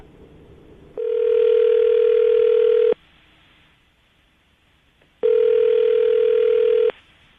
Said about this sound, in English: I'm going to call him now, see if we can get him on the phone